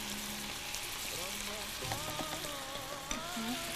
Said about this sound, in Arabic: نحرك الرز شوي